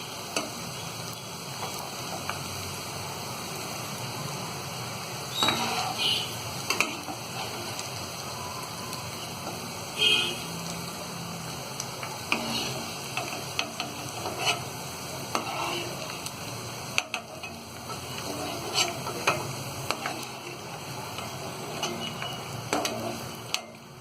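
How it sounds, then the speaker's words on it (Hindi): Cauliflower fries in a pan with a continuous, even hiss and sizzle. Small ticks and pops are scattered through it and no one speaks. "तो ये गोभी को हमने फ्राई कर लिया है और 3-4 मिनट हमने इसे फ्राई किया है"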